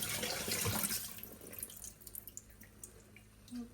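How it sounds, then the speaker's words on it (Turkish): A kitchen tap runs cold water while something is rinsed under it, a steady splashing stream at moderate distance, followed by a few scattered drips and light clatter as the flow tapers off. "Şöyle hemen bir soğuk suda geçireyim."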